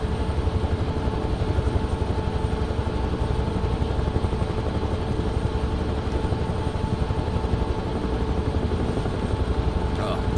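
A Huey helicopter in Microsoft Flight Simulator 2024 drones loud and close, its rotor beating in a steady, even rhythm that never lets up.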